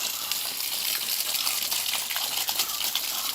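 Water gushes steadily onto the ground around a coconut tree during watering, a continuous close splashing pour with no talk.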